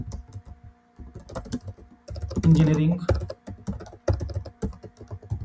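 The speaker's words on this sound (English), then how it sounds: "just randomly I am typing" Random typing on a computer keyboard, rapid clicking keystrokes running steadily underneath someone talking throughout.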